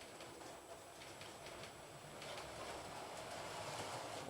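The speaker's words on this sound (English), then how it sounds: "And then we will get out our freight train." A Fleischmann model freight train runs along its track with a steady, faint mechanical rumble and light rolling clatter, no talk over it.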